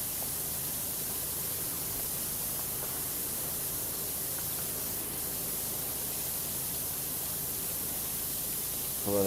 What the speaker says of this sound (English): at least get a powerful enough spray that it cleans stuff on the ceiling fairly well